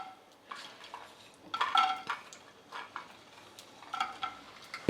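Garlic dropped into a pan of hot oil for Kannada chicken sukka, with clattering utensils, stirring and a light sizzle in bursts, fairly close and moderately loud, no talking.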